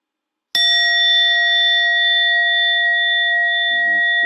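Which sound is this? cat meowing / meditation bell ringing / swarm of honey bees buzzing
meditation bell ringing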